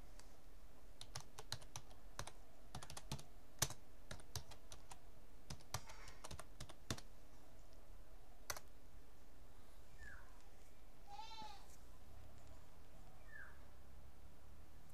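Typing a Facebook marketing search query on a computer keyboard, a quick irregular run of crisp key clicks up close, then quieter room tone with a few faint chirps, no talking.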